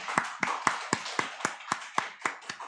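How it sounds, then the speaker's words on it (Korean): A church congregation clapping in unison during Sunday worship, about ten sharp, evenly spaced claps in a steady rhythm, moderately loud with no talk. "우리 하나님께 영광의 박수 올려드리겠습니다."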